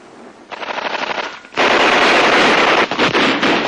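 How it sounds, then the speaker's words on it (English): Bursts of machine gun fire from a World War II combat scene, starting as a lighter rattling volley and then swelling into loud, continuous sustained automatic fire with brief gaps. "Machine gun fire still comes from this and other foxholes."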